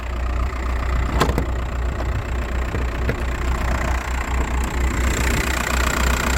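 A Volkswagen car engine idles steadily at close range at a used-car market, a constant low rumble with a few faint clicks and no voices.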